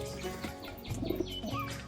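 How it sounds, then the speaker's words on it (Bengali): Pigeons cooing softly indoors, a few low throaty calls mixed with faint chirps over a steady background hum. "ঘরের ভিতরে এখন এই পায়রাগুলো রয়েছে"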